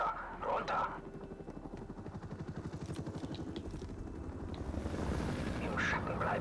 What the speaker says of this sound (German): Feindlicher Helikopter, runter!